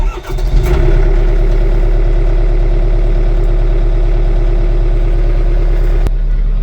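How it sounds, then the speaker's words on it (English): An LS MT242 tractor's diesel engine cranks and catches, then settles into a loud, steady, rhythmic idle heard from inside the cab. "You can hear the engine in here"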